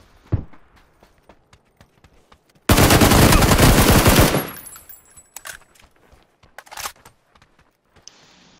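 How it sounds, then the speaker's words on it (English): A loud, close burst of automatic gunfire in PUBG lasts under two seconds, surrounded by scattered single shots and footstep-like thuds, with a sharp crack at the very start. "somebody's shooting at him from where?"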